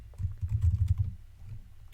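Computer keyboard keys tapped in a quick, close burst while an email address is entered, the clatter thinning out toward the end.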